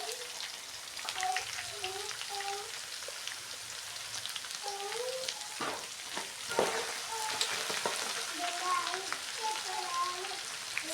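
Garlic sizzles and crackles in hot oil for a bitter gourd chutney, a steady frying hiss with scattered pops and a few stirring clinks, close by, with a burner just switched off and no speech over it.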